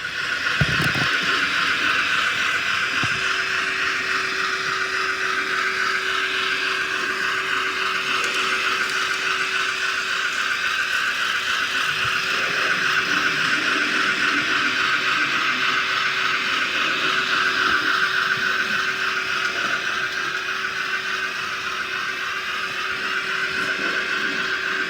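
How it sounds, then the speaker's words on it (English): An N gauge model steam locomotive's sound unit plays a continuous mechanical running sound with a faint steady hum beneath it, staying even in level throughout. "we have the first sound steam engine at Exehaven"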